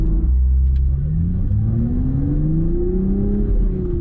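Toyota Supra fitted with a UniClutch track clutch, driving with its engine note rising steadily as it accelerates through a gear, heard from inside the car.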